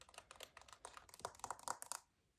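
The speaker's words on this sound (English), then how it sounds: "So I'm going to be doing this all on my MacBook. I have a pink little silicone keyboard." A pink silicone keyboard on a MacBook clatters with quick, soft, continuous keystrokes, close and quiet, with no talking.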